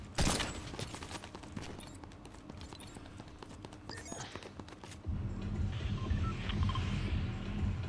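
Assault rifle fire in Fortnite, a fast burst of sharp cracking shots early on followed by scattered single shots, then a louder steady rushing background in the final seconds.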